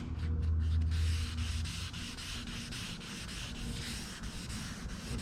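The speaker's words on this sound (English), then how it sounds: "Better get wet sanded and buffed." Wet sanding on a surface gives a steady, continuous rubbing and scraping texture that runs the whole time at moderate loudness, with a low hum underneath early on and no talking.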